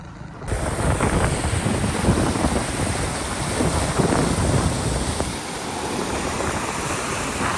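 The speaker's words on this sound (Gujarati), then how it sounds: "પવન બહુ આવે છે" Strong wind buffets the microphone at a newly built dam during the first rains, a loud continuous rumbling roar with gusty swells and no talk.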